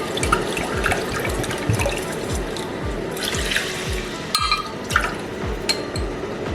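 Water is poured close up into a pan of ghee and wheat flour for kada prasad halwa, with a continuous splashing stream and rhythmic glugging pulses and no speech.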